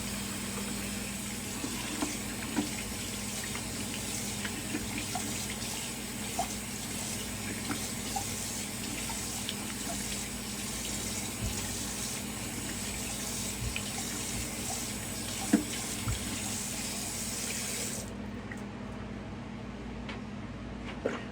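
Cold tap water runs steadily into a bathroom sink during a wet shave, a constant close splashing stream that holds at an even level for the whole stretch and thins near the end.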